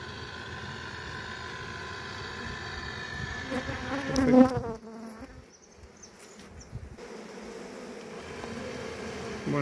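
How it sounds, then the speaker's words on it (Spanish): A dense, steady buzz of honeybees swarms around a frame pulled from a hive, close and continuous, with a brief louder surge and a short dip before the hum resumes. "Voy a mostrar la abeja."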